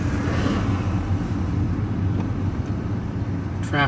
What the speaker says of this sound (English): Summertime traffic.